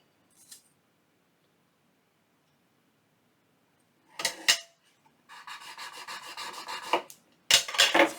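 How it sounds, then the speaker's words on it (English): Paper being burnished by hand while assembling a junk journal fold-out: a few short, sharp rubbing strokes, then a steady run of raspy back-and-forth rubbing, close and fairly loud, separated by near-silent pauses. "We'll burnish it on this side."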